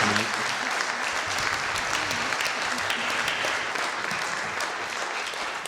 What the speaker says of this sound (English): give them a nice round of applause for their time here tonight